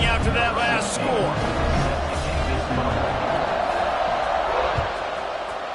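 A large crowd buzzes and murmurs at a Miami vs FSU college football game, a constant roar of stadium noise beneath a commentator's talk.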